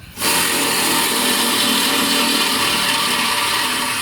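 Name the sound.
power drill drilling holes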